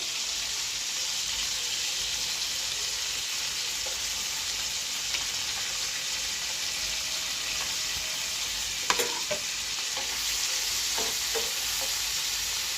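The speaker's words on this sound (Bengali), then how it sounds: "এগুলো এখন এখন দিয়ে দিব এই যে চিংড়ি মাছের ঠ্যাংগুলা" Prawn legs fry in a pan with a steady, close crackling sizzle that runs throughout, with a few brief clinks and stirring sounds near the end.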